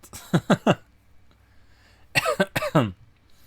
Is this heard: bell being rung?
no